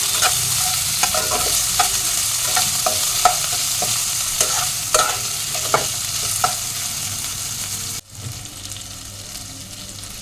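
Tomato tossed into a hot pan sizzles steadily while a spoon stirs and scrapes with repeated clinks, close and fairly loud, before a brief pause near the end and the frying resumes.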